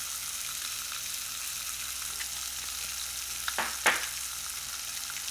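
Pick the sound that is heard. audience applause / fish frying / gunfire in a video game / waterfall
fish frying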